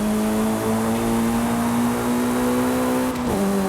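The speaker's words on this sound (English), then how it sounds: "All-wheel drive kicks in, just takes the car and launches" A Mitsubishi EVO 9 with all-wheel drive launches off the line in a Forza Horizon 5 time attack, its engine note rising in a loud, steady drone, with a quick dip at a gear shift near the end.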